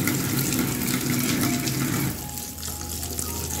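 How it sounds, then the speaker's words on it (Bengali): Tap water runs into a basin over boiled chowmein noodles being rinsed, a steady loud splashing rush that drops slightly in level partway through as the flow shifts, with no voices. "আমি এরকম করে বেসিনের মধ্যে জল দিয়ে বেশ ভালো করে চাউমিনগুলোকে ধুয়ে নিই"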